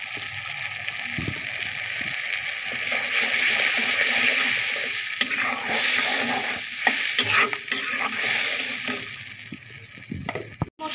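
Spices for an egg and potato curry being stirred and fried in a pan, continuous close sizzling with scraping spoon strokes and occasional clatters.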